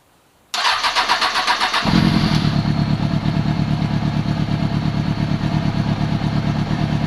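Kawasaki Ninja ZX636 sport bike engine cranking with a starter whir, then catching and settling into a loud, steady, close idle with a rapid pulsing rhythm.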